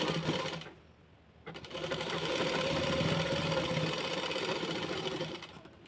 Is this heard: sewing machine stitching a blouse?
yes